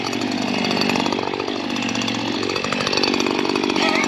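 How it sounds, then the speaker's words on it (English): A gas-powered string trimmer runs steadily at high revs for the whole stretch, its buzzing engine near and loud with slight pitch swells, out on a landscaping job. "It's my trimmer."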